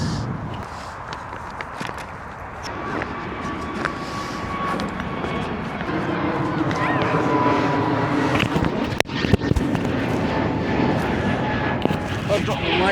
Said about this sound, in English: So that's another British Airways plane.